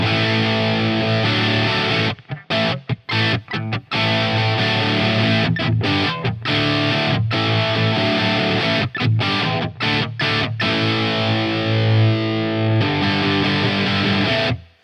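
Electric guitar through a hard-clipping overdrive pedal plays gritty, tight, heavily distorted riffs with short rhythmic breaks and stops, loud and up close with no voices.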